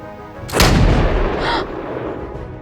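A single loud gunshot cracks out up close, with a lingering rumbling tail and a fainter second burst echoing shortly after, no talking.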